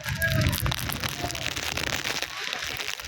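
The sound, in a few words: rain falling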